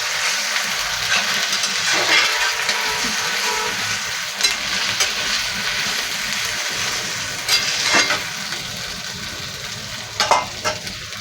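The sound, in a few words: frying meat in a pan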